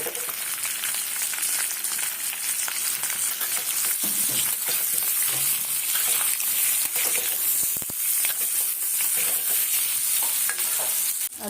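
Potato pieces fry in oil with Kashmiri chili powder and turmeric for aloo dum, giving a dense, steady sizzle close by with faint stirring scrapes throughout.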